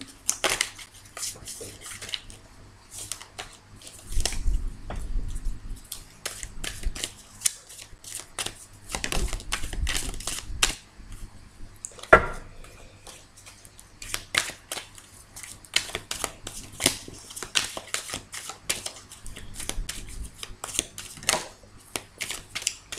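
A deck of tarot cards is shuffled by hand, with soft repeated riffling and sliding through the whole stretch and a few louder flutters, close and quiet with no speech.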